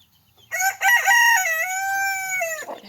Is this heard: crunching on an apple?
no